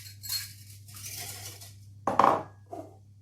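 Chopped onions are tipped from a container into a bowl of breakfast muffin batter, with light scraping and a sharp clink of utensil against the dish, close and fairly quiet against soft background hum.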